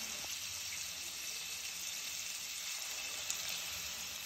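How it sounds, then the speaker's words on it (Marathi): Paneer cubes frying in butter in a pan give a steady, close sizzling hiss that holds even throughout, with no voices. "याला आपण बटरमध्ये चांगलं फ्राय करून घेणार आहोत 1-2 मिनिटं"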